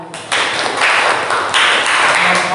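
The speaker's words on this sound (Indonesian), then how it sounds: "Tepuk tangan ya." A classroom group claps hands together, a loud, close burst of mixed applause sustained for a couple of seconds with uneven rhythm.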